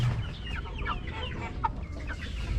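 Rhode Island chickens cluck softly in a coop, a few scattered short calls over a faint, low background rumble.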